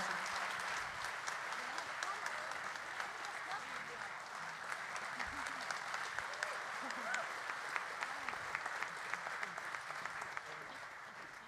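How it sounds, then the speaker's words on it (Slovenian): Audience applauds after a performance by a big band at a military command celebration, with steady, dense clapping from a hall crowd that continues throughout at moderate distance and fairly soft level. "Najlepša vam hvala in veliko aplavz."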